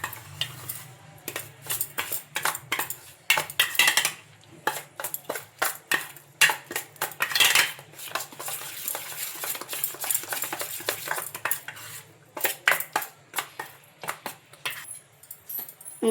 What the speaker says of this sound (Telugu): ఇవన్నీ వేసుకొని ఒకసారి స్పూన్ తోటి బాగా కలుపుకోవాలి